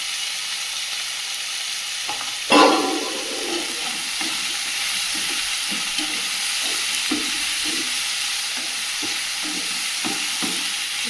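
Bitter gourd seasoned with salt and turmeric fries in a pan over a low gas flame, giving a steady close sizzle, with one loud scrape of stirring early on and softer stirring scrapes after.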